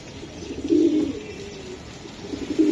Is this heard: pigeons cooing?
yes